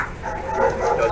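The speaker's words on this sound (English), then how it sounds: "Those are dogs." Dogs barking and yipping somewhere off, a steady muffled stretch of canine noise with no clear separate barks, sitting in a noisy background.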